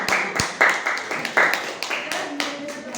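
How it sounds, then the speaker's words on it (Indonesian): A small group of students in a classroom clapping hands, a short burst of individual sharp claps that stop and restart unevenly, close and fairly loud, with a voice briefly mixed in. "Kasih tepuk tangan."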